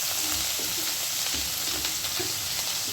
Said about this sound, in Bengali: টমেটোটা ভাজা ভাজা যেই হচ্ছে, আমার যে আদাটা গ্রেট করা ছিল, ওই আদাটাকেও আমি পুরোটা দিয়ে দিলাম